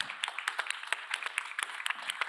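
An audience at an agrifood leadership education event gives a short round of applause, brisk scattered hand claps at moderate volume, with no talking.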